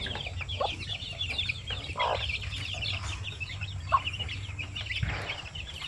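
Shamo Aseel chickens and their chicks on a farm, with soft clucks and repeated high chick peeps over a low background hum.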